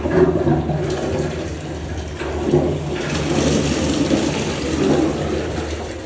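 A toilet with a siphon flush mechanism under repair is flushed by pulling its lever, releasing a loud, steady rush of draining water that churns on for several seconds.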